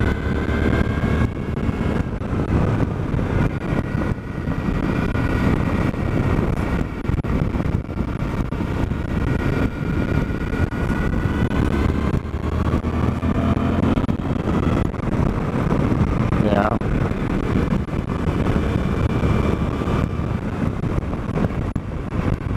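A 2024 Suzuki DL-800 V-Strom with a quiet muffler on a break-in ride: a steady engine drone runs through the whole stretch, partly buried under constant rushing wind noise, with no talking.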